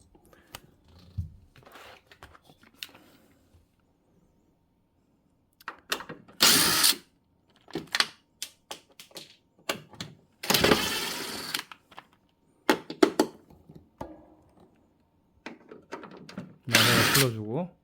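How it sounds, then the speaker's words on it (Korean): A power screwdriver loosens screws on a Samsung Wind-Free stand air conditioner during disassembly for cleaning, several short sharp whirring bursts close by, separated by clicks, handling noises and quiet gaps. "나사를 풀어주고"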